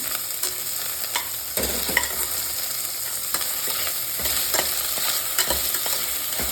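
Chopped onions and capsicum fry in an oiled pan, a steady close sizzle broken by scraping stirs that come every second or so; no one speaks.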